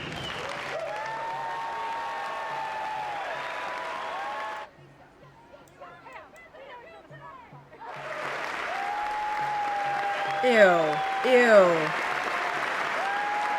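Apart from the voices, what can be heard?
applause for Netanyahu at Congress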